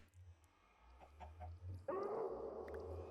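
Minecraft chicken clucking, a few soft low clucks over game ambience, then a louder burst of squawking near the end, close and alone with no talk.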